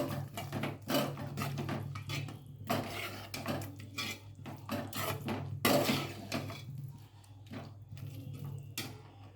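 Curd is mixed into mutton biryani masala in a vessel, giving irregular close scrapes, knocks and clinks of a spoon against the pot, moderately quiet.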